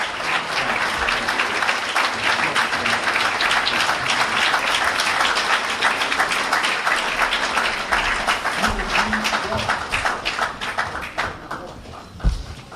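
A large crowd at a Nation of Islam gathering in New York claps in dense, sustained applause that stays loud and even for most of the clip, then thins out and fades near the end.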